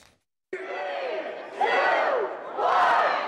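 A huge crowd at a state fair burrito eating contest roars and cheers in sustained waves of massed voices, swelling louder twice after a brief silence at the start.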